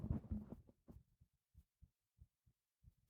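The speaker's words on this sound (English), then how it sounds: "I'm about to listen, you're gonna hear my heartbeat." A heartbeat picked up by a microphone resting on the chest, a faint low thump repeating in a slow, steady rhythm after a brief burst of handling noise.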